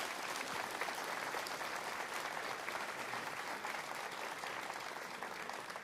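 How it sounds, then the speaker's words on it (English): An indoor audience at an Irish Scór na nÓg quiz final claps for three competing teams, a dense, even burst of applause held steady throughout. "can we get a round of applause for our 3 teams?"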